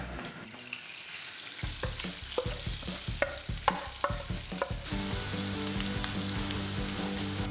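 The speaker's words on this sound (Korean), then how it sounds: "프라이팬에 기름을 충분히 두르고 구워주시면 됩니다" A potato mixture with peppers and onion fries in plenty of oil in a frying pan, giving a continuous sizzle broken by a run of sharp clatters and spatters as it is stirred and moved, with no talking.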